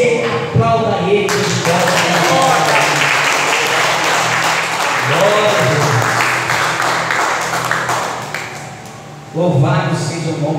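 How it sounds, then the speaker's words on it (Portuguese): A church congregation at a revival service bursts into loud, sustained applause. The clapping swells and then tapers, with a voice speaking briefly before and after it. "em nome de Jesus, e você aplauda ele."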